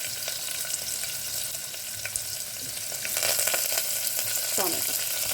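Onion, tomato, ginger and garlic fry in hot oil with a steady close sizzle that swells louder midway, broken by the scrape and clink of a stirring spoon.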